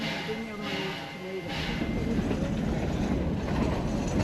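A Zig Zag Railway train near Katoomba rumbles steadily on the line, with a low continuous roll and faint clanking of cars coupling at the rear, heard at moderate distance with a voice speaking over it.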